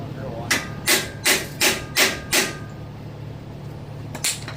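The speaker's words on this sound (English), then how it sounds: "get back on slide hammer" A slide hammer pulling a bearing from an 8.5-inch 28-spline axle housing strikes five times in a steady rhythm, then once more after a pause, with metallic clanks over a low background hum.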